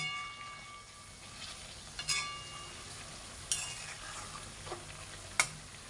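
Homemade ghee cooking in a pan, a quiet, steady low sizzle with a few light clinks and scrapes of a utensil spaced a second or two apart.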